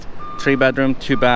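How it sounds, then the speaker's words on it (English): Loud repeated reversing beeps from a truck outdoors at a new-home development in Henderson, Nevada, a series of harsh tonal pulses, sound close by while a person speaks over them. "Sorry about the noise, guys, if it's the beeping."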